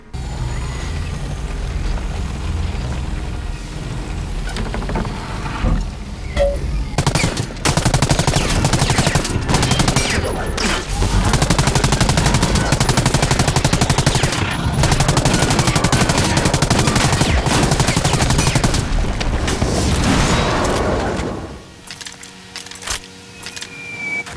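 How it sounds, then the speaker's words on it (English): A hostile AIM drone in Ghost Recon Breakpoint strafes with rapid cannon fire, long loud sustained bursts of gunfire with crashes and impacts that cut off abruptly near the end. "Like the strafing from this AIM drone."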